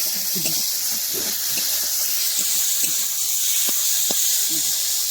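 Mustard and cumin paste sizzles in hot oil, a steady bright hiss running the whole time beneath a voice speaking over it.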